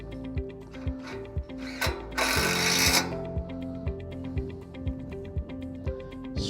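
Screws are driven through a Colorbond fence's bottom rail into a timber sleeper, a power drill whirring in quick rhythmic ratcheting bursts with a short louder buzzing burst in the middle, close and clear, no speech.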